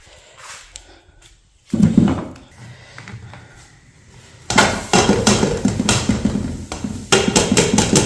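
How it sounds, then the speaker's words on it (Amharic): An onion is chopped with a knife on a board, starting with a few scattered knocks, then a fast, steady run of sharp close chops in a quiet room. "አሁን ሽንኩርቴን ቆርጣለሁ።"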